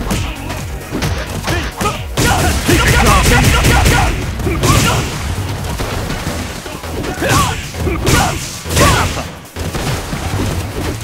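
Dudley's Machine Gun Blow in Ultra Street Fighter IV, in a fight against Decapre, lands as a loud, rapid flurry of punch impacts and whooshes over continuous game music and effects.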